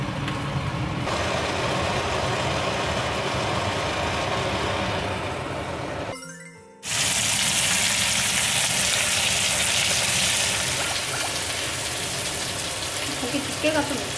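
Steak sizzles in olive oil in a pan, a continuous close frying hiss that briefly drops out midway and then returns louder, with a voice talking over it.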